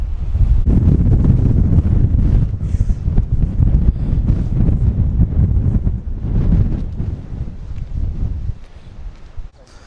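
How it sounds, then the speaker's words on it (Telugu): Strong wind roars and buffets the microphone at a windy Mini World's End viewpoint in Sri Lanka's highlands, loud and continuous, easing a little toward the end. "గాలి మామూలుగా రావట్లా."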